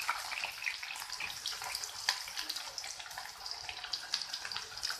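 Chopped onions go into hot oil in a pan for a chicken biryani, setting off a faint, continuous crackling sizzle that stays even throughout, with no one speaking.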